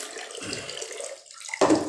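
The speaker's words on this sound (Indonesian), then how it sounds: "Kita cuci beberapa kali, kita ulang beberapa kali agar bersih kedelai yang akan kita rebus" Soybeans being washed in water for making tempeh, sloshing and swirling in a container with a louder splash near the end, close and alone without speech.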